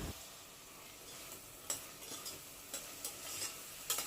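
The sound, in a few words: sautéing chopped tomato with green chillies and coriander in a pan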